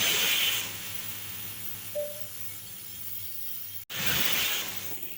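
A pressure cooker on a gas stove vents its leftover steam after two whistles, making a steady, fairly close hiss that fades out, drops briefly to near silence, then surges back.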